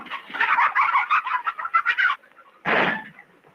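Chickens cluck in a film scene, a dense run of close, busy clucking and squawks for about two seconds, then a short pause and one more loud burst.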